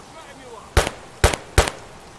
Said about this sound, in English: I hear him shooting, but I can't.